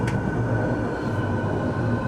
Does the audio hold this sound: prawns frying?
no